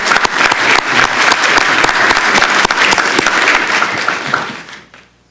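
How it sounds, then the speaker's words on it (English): Audience applause at a county commissioners meeting in Tallahassee, a dense burst of clapping from a roomful of people that holds steady for several seconds, then fades out. "let's give him a round of applause."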